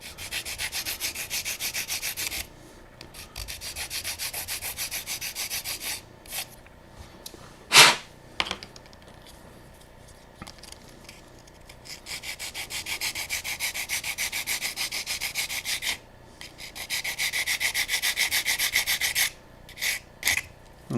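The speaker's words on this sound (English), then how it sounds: "let's maybe just sand them softly to be sure that they are nice and flat" Resin model tank parts rubbed flat on sandpaper by hand, giving steady, close scraping strokes in long bursts separated by brief pauses, with a few sharper knocks and no talking.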